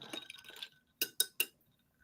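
A spoon stirring iced tea with lemon in a glass: a soft swirl of clinks, then three sharp separate taps against the glass, close and quiet.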